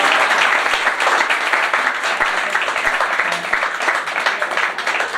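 Audience at a poetry open mic evening clapping loudly and continuously, a full room of applause close by that holds steady throughout.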